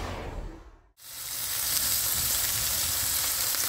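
Pork chops frying in a pan alongside potatoes and veg, cooked in a camper van; a brief dip, then a loud, steady sizzle and hiss that carries on unbroken with no talking.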